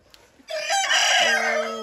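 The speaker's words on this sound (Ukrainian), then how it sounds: "Мощні, хороші петухи." A large hybrid meat-breed rooster, a cross of mini meat chickens and Bresse, crows once loud and close, a single drawn-out call that begins abruptly after a quiet moment and drops in pitch toward the end.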